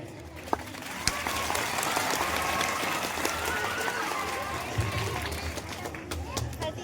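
Audience applause at a patriotic Independence Day poetry recital, a steady broadband clapping wash lasting throughout at moderate level, with crowd noise and some talk mixed in.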